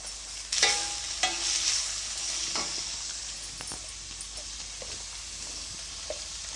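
Onion and capsicum fry in a pan with little oil for fried rice, a steady close sizzle broken by a few sharp spatula scrapes and stirs near the start.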